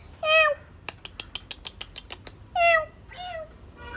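A cat meows three times, close and clear, with a short run of light ticking clicks between the first two calls.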